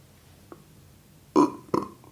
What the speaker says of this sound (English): That's a burp. That's a bicarb burp.